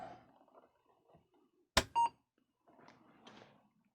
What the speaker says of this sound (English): when I flick this switch, this should at least beep